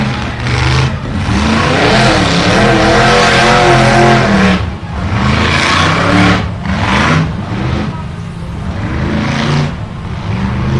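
A loud off-road rock racing vehicle's engine revs hard and roars continuously at an offroad park, with repeated surges and dips in throttle, close by and with no voices.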